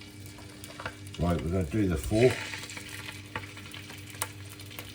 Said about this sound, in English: Bit of a sizzle coming on there.